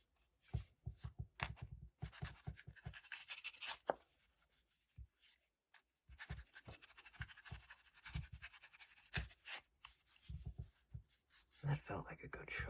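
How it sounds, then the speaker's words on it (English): A deck of playing cards being shuffled during a relaxed poker game, close and soft, with repeated riffling and rustling bursts separated by brief pauses. "That felt like a good shuffle there."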